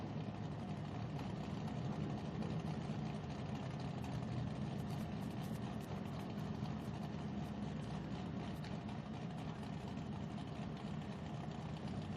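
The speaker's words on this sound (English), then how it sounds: "Cars idling on the line now, waiting eagerly to find out which way our podium will shape up." Drift cars idle on the start line at a Drift Allstars round in Sydney, a steady low engine rumble that continues evenly throughout at a moderate distance, with no talk over it.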